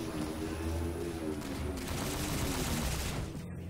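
Gunfire rattles in Halo 4 Spartan Ops multiplayer, a dense continuous burst of automatic shots with a vehicle in play, loud and unbroken for a few seconds without talk.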